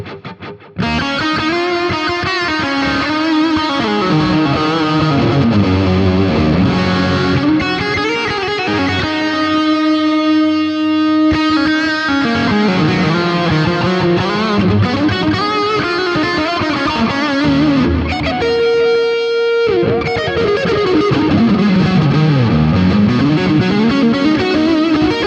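Electric guitar run through a Roland Space Echo tape delay fitted with new tape, loud sustained notes and chords with echoing repeats and swirling pitch sweeps, played continuously without any voices.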